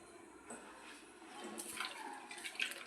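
Water is poured into a pot of sambar with salt, coriander, curry leaves and fenugreek, giving a soft, quiet splashing and trickling that swells slightly near the end, with no talk over it.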